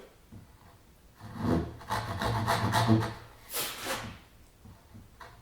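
A hand saw rasps through wood cutting a half-blind dovetail joint in a few quick back-and-forth strokes, close and fairly quiet, then stops.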